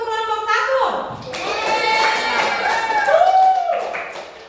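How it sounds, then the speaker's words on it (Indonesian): A classroom of students claps for group 1 after their presentation, a brief patter of hand claps following a teacher's spoken request, with her voice continuing over the fading applause. "Tepuk tangan dulu untuk kelompok 1."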